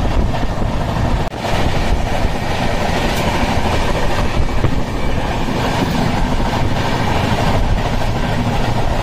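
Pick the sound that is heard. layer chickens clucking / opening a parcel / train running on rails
train running on rails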